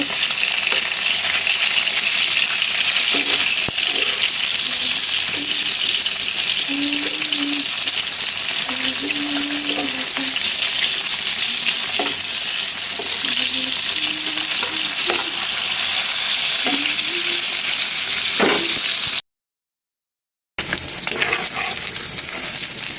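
Hilsa fish sizzles steadily in hot oil in a pan, a constant dense crackle close by running throughout with faint stirring clinks, cut by a short silent gap near the end.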